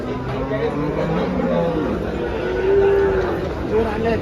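A cow moos at a busy cattle market in Dhule trading HF and Jersey cows, a drawn-out low call rising over steady crowd chatter and nearby talking voices.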